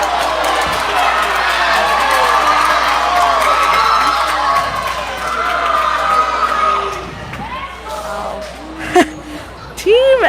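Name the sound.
basketball crowd cheering wildly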